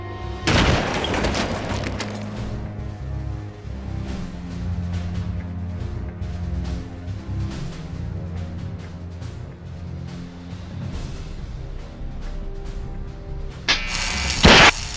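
A sharp, loud sniper rifle shot cracks at the start, then a low rumbling backdrop continues, and a second harsh burst comes near the end.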